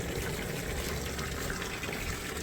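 Water pours steadily into a backyard fountain outdoors, a continuous close gushing and splashing with no pauses throughout.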